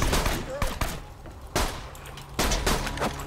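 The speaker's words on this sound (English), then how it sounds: "I can just keep spamming grenades." Grenades spammed in Borderlands 2 go off as a rapid run of loud, punchy blasts and cracks, several close together, amid busy combat noise with a voice shouting in between.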